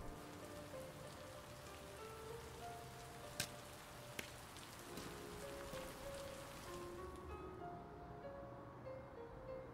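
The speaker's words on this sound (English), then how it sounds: "It was rainy that day" Steady rain patters on surfaces, a soft, even hiss of droplets throughout, faint and distant, broken by a couple of sharp isolated ticks and fading out near the end.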